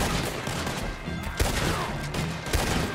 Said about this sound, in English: Let's use the rifle.